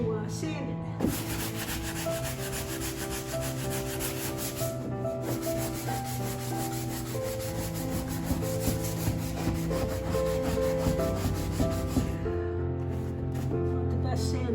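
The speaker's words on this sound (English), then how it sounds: "The Bondo's dry, so I'm going to sand it." A sanding pad rubs over dried Bondo body filler during wall prep, giving steady, close scraping strokes that run for the whole stretch over a constant tonal background hum.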